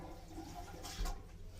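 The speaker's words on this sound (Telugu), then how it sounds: "సో ఫ్లష్ కూడా నీట్గా వర్క్ అవుతుంది" A toilet flushes in the washroom of a Mahamana coach on the Janmabhoomi Express, a short, quiet watery whoosh that swells briefly near the middle and fades.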